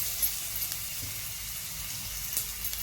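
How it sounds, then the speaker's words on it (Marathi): Garlic, ginger, chili and coriander paste sizzles faintly in hot oil with mustard seeds, a soft continuous hiss with a few small pops. "तेल आपलं तापलेलं आहे मोहरी घातलेली आहे त्याच्यानंतर लसूण आलं मिरची आणि कोथिंबीर याची पेस्ट आहे"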